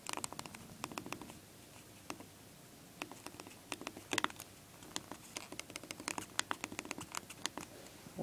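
Fingertips tap quickly on an iPod touchscreen while a text message is typed, giving an irregular stream of soft, light clicks close by against a faint background hiss.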